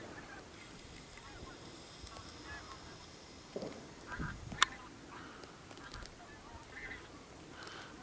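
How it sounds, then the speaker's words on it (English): Geese honk faintly and intermittently from a distance at a bird-watching spot along a cycling route, with a few brief calls rising over a quiet outdoor background. "Many geese come here."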